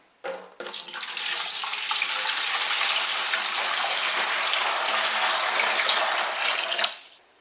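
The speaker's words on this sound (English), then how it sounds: "go ahead and add this to my primary fermenter. This is filtered water." Filtered water pours steadily into a wine primary fermenter for elderberry wine, a continuous close splashing gush lasting about six seconds after a brief start-stop, then cutting off.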